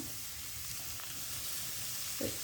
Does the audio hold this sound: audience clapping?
no